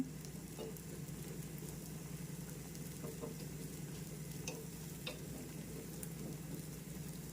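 An omelette fries quietly in a pan over a medium flame, a soft, even sizzle throughout with a few faint scrapes and clicks near the start and middle.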